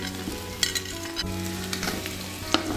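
Onion sautés in a pan after garlic for an Ilocano batso dish made with bottle gourd. A steady, close sizzle and crackle of frying runs throughout, with occasional sharper pops and stirring scrapes and no voices.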